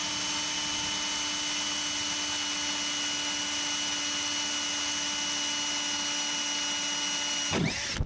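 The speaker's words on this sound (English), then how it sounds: "So drill that hole out, get that plastic, get it ready for our patch." Power drill boring a hole through kayak plastic to prep a patch, a steady high-pitched whine held for several seconds, close and loud, ending in a brief sweep and a clunk.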